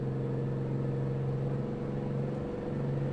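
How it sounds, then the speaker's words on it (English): A Mack truck engine in American Truck Simulator drones at a steady low idle-like hum, a constant rumbling tone with layered harmonics and no talk over it. "You gotta love that engine sound though."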